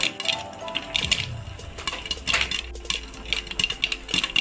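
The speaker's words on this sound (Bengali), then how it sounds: "সে এমনভাবে আমার ভুট্টাগুলো ফুটতেছে, খুব সুন্দর লাগতেছে।" Corn kernels pop in a covered pan, making sharp clinks and ticks as they strike the lid and metal, scattered irregularly over a low background, with no voices.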